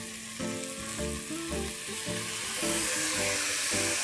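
Diced carrots and peas with onions, frying in an open pressure cooker for veg pulao, give a close, continuous sizzle that swells and settles as the vegetables are stirred, with nobody talking.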